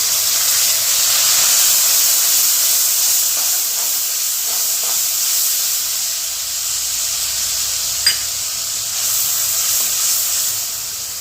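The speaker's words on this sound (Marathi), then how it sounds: "कोकम आणि गूळ हे छानपैकी तेलामध्ये फ्राय व्हायला पाहिजे" Kokum and jaggery fry in hot oil for a sweet-sour Marathi amti, giving a steady, loud hiss and sizzle throughout with one brief sharp crackle near the end.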